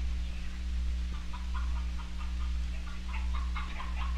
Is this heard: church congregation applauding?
no